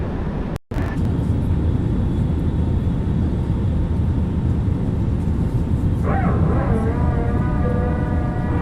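An A320neo airliner climbs out after takeoff in Microsoft Flight Simulator, its engines a loud, constant roar with a momentary dropout near the start and a rising whine in the last few seconds, and no talking.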